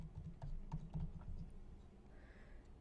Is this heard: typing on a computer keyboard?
yes